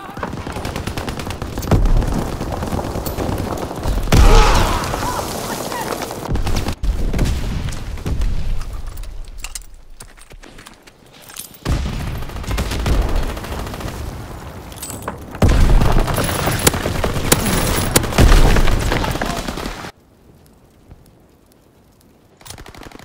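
Heavy gunfire and booming artillery blasts in Call of Duty WWII, with dense machine-gun rattle and repeated explosions that surge and fade before an abrupt drop to quiet near the end.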